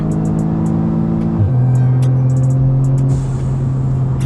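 A German-import Audi S3's engine revs loudly and up close, its drone dropping in pitch midway and then holding a steady throbbing hum.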